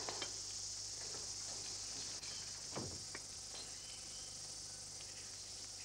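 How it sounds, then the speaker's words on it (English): A steady high drone of cicadas in a treetop hangs over a quiet outdoor scene, with a few soft scattered clicks and rustles underneath; no voices. "The only thing up here in the treetop today with me are the cicadas."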